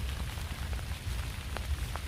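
Light rain falls outdoors in autumn, a soft, even patter with faint scattered drops, quiet and steady with no voices.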